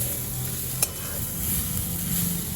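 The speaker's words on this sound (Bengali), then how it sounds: "নারকেলটা অল্প ভাজা হয়ে গেছে" Grated coconut sizzles quietly in a pan while a utensil stirs it, with one short sharp scrape near the start.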